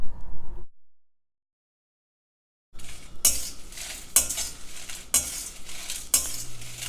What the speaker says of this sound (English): If the pan is warm enough, you can just roast it in that warm pan.